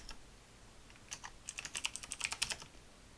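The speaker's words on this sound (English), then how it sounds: "So let's type public class" Code is typed on a computer keyboard in quick, uneven bursts of light key clicks, close up and quiet, with a short pause before a denser run of keystrokes.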